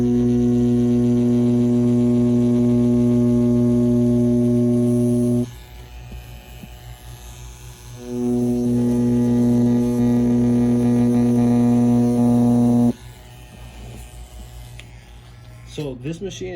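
Dragonhawk Mast tattoo machine running at 7 volts, a steady electric buzz with strong hum that runs loud for about five seconds, stops, then buzzes again for another stretch before cutting off, with quieter handling noise between runs.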